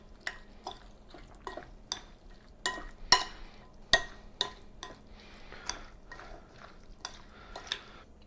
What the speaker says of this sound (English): And then just stir.